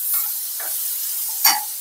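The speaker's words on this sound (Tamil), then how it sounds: "சவுச்சவ் போட்டு நல்லா வேகிற வரைக்கும் வதக்கிக்கோங்க." Diced chayote sautéing in a pan for chutney, with a few short scraping stirs and a soft sizzle, close and brief, with no voices.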